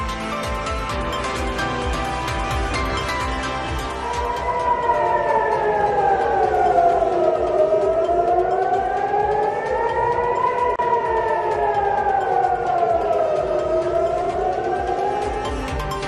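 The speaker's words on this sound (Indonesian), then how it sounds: "Sirine peringatan bahaya berbunyi di Bandara Ben Gurion setelah serangan rudal yang diduga milik Hizbullah dilancarkan dari Lebanon." Air raid warning siren at Ben Gurion Airport during a missile attack, a loud steady wail rising and falling in slow smooth cycles after a noisy start.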